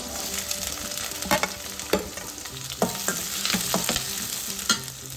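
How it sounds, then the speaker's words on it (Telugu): Chopped onion dropped into hot oil that already holds fried green chillies for a mutton curry, sizzling loudly and steadily while a spatula scrapes and knocks against the pan several times. "ఇప్పుడు ఆనియన్ వేద్దాం"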